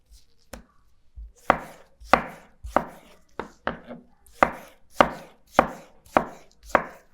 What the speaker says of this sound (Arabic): وبعدين نقطع طماطمتين